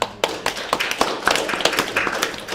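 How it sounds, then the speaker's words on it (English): An audience at a conference panel on food policy and the role of government and business gives a round of applause, with a dense crackle of clapping that starts abruptly and stays steady throughout. "Round of applause for Danny."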